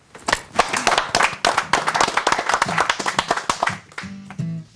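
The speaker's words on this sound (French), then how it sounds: "Merci, on vous applaudit et à bientôt." Audience applause at a talk in Geneva, a dense burst of many hands clapping fairly close and loud, tapering off toward the end.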